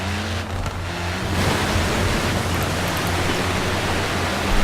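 A car splashes through reservoir water in Forza Horizon 4, a loud, steady rush of spray and churning water running unbroken throughout with no voices.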